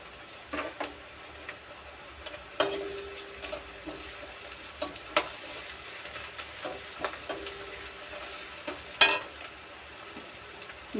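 Amaranth stems fry in a pan with salt added, giving a soft, low sizzle punctuated by sharp clicks and taps from stirring, close and without talking.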